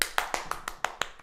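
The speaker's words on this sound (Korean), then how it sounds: "바로 박수!" Students clapping in a Korean university chemistry lecture hall, a quick series of about eight sharp claps at a steady beat, fairly close, with no talking over them.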